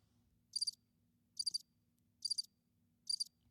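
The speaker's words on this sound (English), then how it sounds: "Music. Crickets." Four short bursts of cricket chirping, evenly spaced, each a quick trill, over a faint low hum with otherwise quiet surroundings.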